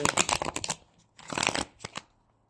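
Cards being riffle-shuffled in quick bursts, a rapid flurry, a pause, then another longer riffle and a couple of short snaps, close up.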